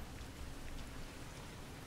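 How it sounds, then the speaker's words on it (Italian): Steady rain in the video game Resident Evil Revelations 2 falls without pause, a dense even hiss with soft patters close by, no voices. "Inizia a piovere."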